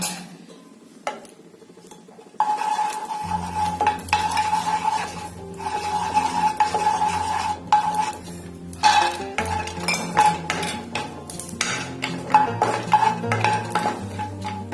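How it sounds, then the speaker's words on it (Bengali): Cashews frying in a little ghee in a wok for Bengali-style vegetable fried rice, with a steady soft sizzle and repeated scraping clinks of a spatula stirring against the pan, close and continuous. "কড়াইতে সামান্য ঘি দিয়ে আমি কাজুটাকে প্রথমে ভেজে নেব।"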